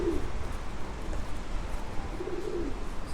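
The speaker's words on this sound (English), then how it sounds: "Some big old pigeons up there." Big pigeons perched overhead outdoors in a Japanese town coo low and soft in two short phrases, heard at moderate distance over steady street and ambient noise.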